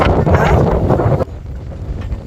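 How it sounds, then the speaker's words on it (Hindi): Strong wind gusting hard against the microphone in an outdoor spot as rain clouds gather, a loud, close rushing roar that drops sharply halfway through to a softer, lingering buffet. "इतनी तेज हवा चल रही पिकू, मतलब वाह एकदम एसी चल रहा है।"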